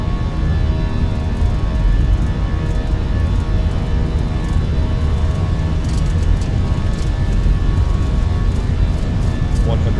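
Airbus A320 engines on a takeoff roll in the Fenix A320 for MSFS2024, giving a loud, steady, broadband roar that holds without letup throughout.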